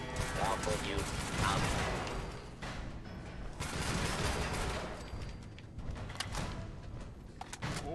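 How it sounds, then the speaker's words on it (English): Rapid laser weapon fire from Robco Galactron robots battling in an arena in Fallout 4, continuous crackling bursts with a commentator-style voice over much of it. "Now entering the ring, Robco's Galactrons with their cutting-edge laser technology."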